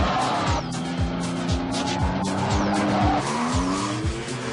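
A Porsche 911 rear-engine sports car drives hard, its engine note rising and falling through repeated gear changes while the tires squeal continuously; loud and close, with no voices.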